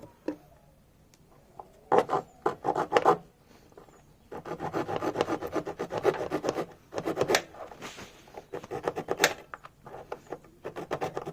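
Cutting away part of the battery holder on a Hero Splendor motorcycle so a larger 4A battery fits, heard as rough rasping strokes in bursts, close and moderately loud, with a short pause between runs.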